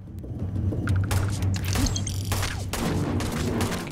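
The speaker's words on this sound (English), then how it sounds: "This gun goes crazy." A gun in the video game Starfield fires in dense rapid bursts, loud and continuous with booming impacts and mechanical clatter through the whole stretch, with no speech.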